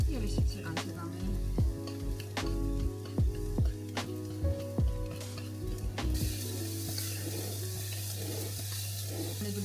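Seasoned food sizzling in a pan as it is stirred: repeated sharp scrapes and clinks over a steady low hum, then a louder, continuous frying hiss takes over toward the end.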